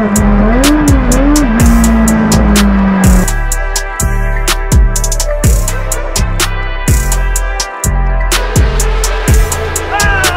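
A 1980s Formula 1 race car runs close by, its loud engine revving up and down through repeated sharp gear changes, with a short high whine near the start.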